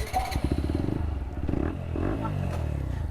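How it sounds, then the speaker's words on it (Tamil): A motorcycle engine fires up and idles with a steady, rapid exhaust pulse, then revs briefly before settling back, heard fairly close and alone. "ஸ்டார்ட் பண்ணி ஒரு ரேவ் பண்ணுங்க."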